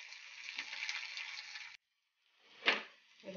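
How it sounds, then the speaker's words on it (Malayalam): Garlic sautéing in a pan, a soft steady sizzle for nearly two seconds, then a pause before a single stirring scrape and a renewed hiss, all quiet and close. "വെളുത്തുള്ളി ഒന്ന് നന്നായി വഴന്ന് വരുന്നവരെ"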